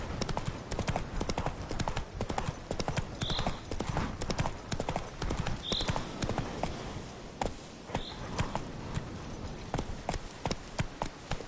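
A horse's hooves clip-clop in a steady, fairly loud rhythm in The Witcher 3, continuing the whole time, with a few short bird-like chirps above.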